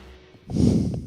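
A person at a darts tournament vocally imitates a horse with a short breathy snort-like whinny that swells after a quiet start and stands close and alone.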